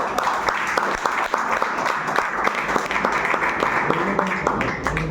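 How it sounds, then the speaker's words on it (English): An audience applauds at a college presentation competition, moderately loud with distinct hand claps standing out in an uneven rhythm, while voices murmur and talk underneath. "Please, a round of applause."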